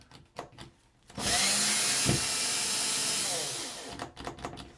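Cordless drill whirring loudly for about three seconds while backing out closet shelf supports, steady high motor whine with a brief dip midway, framed by faint clicks and handling noises before and after.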